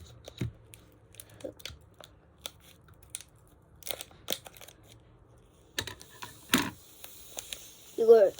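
Scissors snipping open a snack package of gum and frog-egg jelly, with scattered crisp cuts and plastic rustling at close range in a quiet room.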